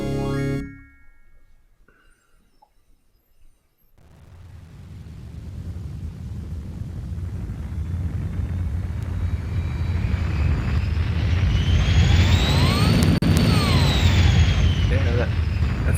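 A rocket ship engine roar in the 1995 Sierra video game Space Quest 6: after a short sound and a pause, a deep rumbling roar swells and holds loud and steady, with a rising and falling whine riding on top.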